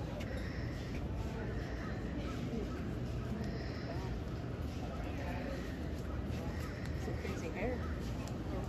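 A cockatoo at the San Diego Zoo gives harsh, crow-like squawks and caws over a constant crowd murmur, with people talking nearby.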